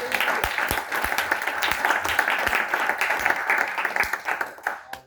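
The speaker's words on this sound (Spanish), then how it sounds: "¿Cuántos pueden dar un fuerte aplauso al Señor?" A church congregation claps loudly and steadily for about five seconds, with a few sharper individual claps over the dense applause. The clapping tapers off abruptly at the end.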